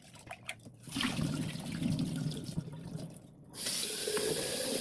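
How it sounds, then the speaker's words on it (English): Tap water rinses vinegar out of a glass sprouting jar. The faucet splashes and gurgles in uneven bursts, then a stronger steady stream gushes close by, with no talking. "I feel like I want to rinse the other jar one more time to make sure I got that vinegar out"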